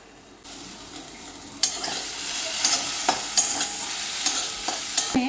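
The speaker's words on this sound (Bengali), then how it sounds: "ঢাকা দিয়ে দিলে সবজিগুলো একটু নরম হয়ে ভাজা হয়ে যাবে" Vegetables for shukto dal frying in a covered pan, a steady close sizzle that swells as the lid clatters on, with small knocks and crackles running through, no voices.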